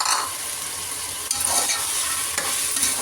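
Chickpeas are tossed into a pan of frying onion and tomato for kulambu, setting off a steady, close sizzle with scraping stirs and a few clinks of a utensil, and no voices.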